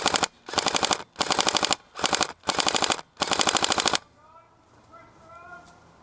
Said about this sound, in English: lay down a bit of cover fire